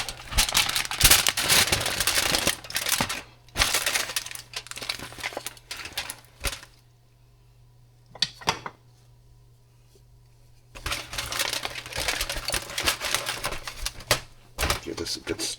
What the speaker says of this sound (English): let's take the tin aluminum foil off